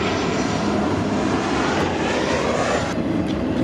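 A steady, loud roar of an airplane engine passing overhead, broad and continuous for the whole stretch with no voices.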